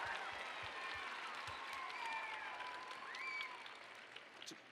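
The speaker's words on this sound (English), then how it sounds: "we really just want to give one more round of applause for all of our Hot Topic speakers" Audience applause for conference speakers fills a large room, a steady dense clapping sustained throughout at moderate distance, with a few scattered voices mixed in.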